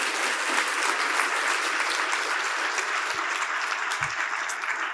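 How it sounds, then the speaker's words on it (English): Steady, dense applause from a full room of forum attendees at a diversity event's closing session, even and sustained throughout with no voices. "Let's give them a big round of applause"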